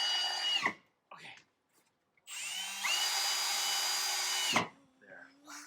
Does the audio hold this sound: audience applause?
no